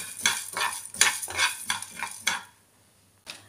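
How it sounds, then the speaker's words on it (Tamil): Rice, toor dal, pepper and cumin dry roasting in a pan: brisk rhythmic scraping and rattling stir strokes for a couple of seconds, then near silence before one last short scrape. "இப்போ எல்லாம் நல்லா வறுத்துக்கலாம். நல்லா கோல்டன் ப்ரௌனாக வறுத்துக்கலாம்."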